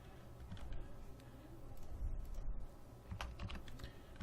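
Quiet, rapid typing on a computer keyboard as code is entered, with clustered clicks and short pauses, close and soft.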